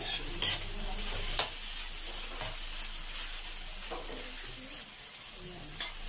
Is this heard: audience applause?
no